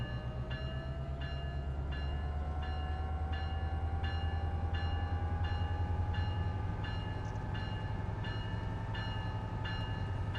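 A big train passing through San Bernardino, a steady loud rumble with rhythmic wheel clicks at regular intervals and a long sustained horn-like tone running throughout, close and continuous with no talk.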